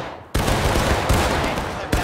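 Musket volley fire in the American Civil War game War of Rights: a dense crackle of many muskets firing in ragged succession, with several sharp, loud reports rising out of a continuous rolling rattle.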